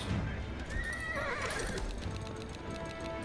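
Horses gallop and neigh in the Age of Empires 4 video game, a sharp whinny rising over steady pounding hooves, mixed into dense battle ambience with no talk.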